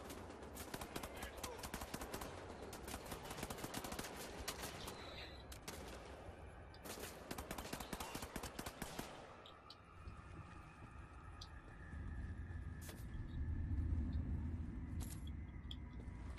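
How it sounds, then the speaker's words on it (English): Dense automatic gunfire in the 2014 PC game Wolfenstein: The New Order, loud rapid bursts for most of the first nine seconds, then a lower rumble with scattered distant shots. "Who the fuck is shooting at me?"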